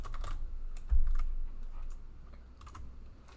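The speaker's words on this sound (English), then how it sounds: "I like your keyboard." Rapid, irregular keystrokes on a computer keyboard, a string of light clicks and taps at close range with no voices, fading slightly toward the end.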